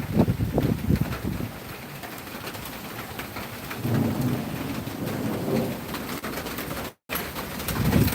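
Heavy rain pours steadily outdoors while low rumbles of thunder roll in and swell, loud and close, with no talking.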